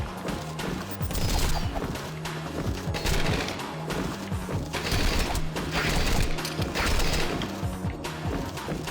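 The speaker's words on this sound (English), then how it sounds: "I guess you would call it a Gauss cannon." In the video game Rengoku, an electromagnetic Gauss cannon fires a rapid, dense series of loud metallic blasts and crashes in uneven bursts, with no talking.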